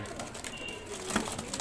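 Teddy pigeons in a sale pen cooing softly, with low murmuring coos mixed into faint background chatter and rustling.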